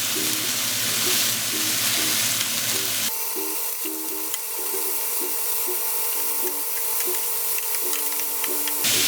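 Meatballs frying in a single crowded hot pan, a steady close sizzle and crackle that grows brighter after a few seconds, with a faint repeating tonal hum beneath, no talking.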